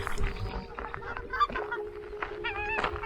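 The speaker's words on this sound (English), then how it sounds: "Those are native ducks making noise." Native ducks in New Zealand call and honk in short bursts over a steady background hum, close by and fairly loud.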